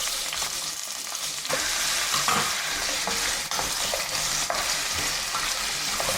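Cubes of butternut squash sweat in a saucepan, giving a steady, close sizzle with occasional stirring scrapes throughout.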